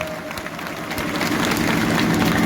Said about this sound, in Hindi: तो एक बार जोरदार तालियों के साथ प्रशासन का शुक्रिया अदा करें।